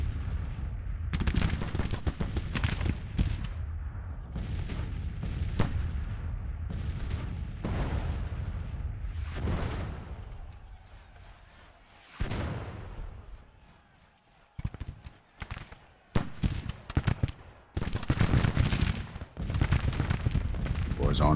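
Six-pounder cannons and musket volleys thunder in a Grand Tactician: The Civil War battle, with dense rolling booms and crackling gunfire that are loud and continuous, briefly easing before erupting again in bursts.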